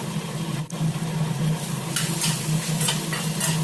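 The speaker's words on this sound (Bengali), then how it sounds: "ভালোভাবে নাড়াচাড়া করে নেব" An onion mixture for soya bean Manchurian fries over medium-low flame in a pan with salt and chopped coriander, giving a steady near sizzle with soft scraping stir strokes and a few brighter crackles, no talk.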